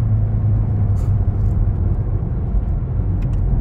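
Engine and road noise fill the cabin of a Volkswagen Golf GTI MK8 as it accelerates, a loud, steady low rumble with a constant drone and no pauses.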